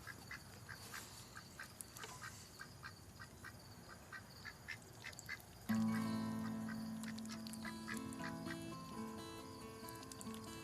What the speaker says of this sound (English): in addition to the crickets and the dogs and the roosters, the ducks are out